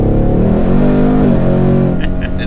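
A car engine revs hard in sport mode, a loud, continuous rising roar with harmonic tones climbing and settling, close up, with a brief sharper burst near the end.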